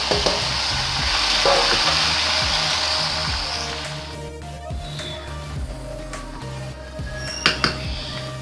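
Chicken sizzles in hot cooking oil in a pan on the stove for chicken tikka, a loud steady frying hiss that drops in level partway through, followed by a few clinks of utensils.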